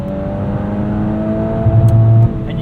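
Volkswagen Golf R 2022 with DSG gearbox, in Nürburgring mode, its engine revving hard, steady high drone with a brief surge near the end as it bounces off the rev limiter, heard close from inside the cabin.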